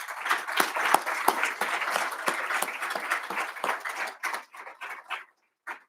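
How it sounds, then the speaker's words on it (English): Sustained audience applause for honorees at a military service awards ceremony, dense and steady before thinning into scattered claps that fade out near the end. "Let's give our honorees one more round of applause, please"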